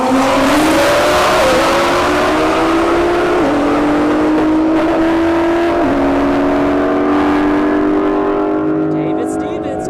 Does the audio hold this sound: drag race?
yes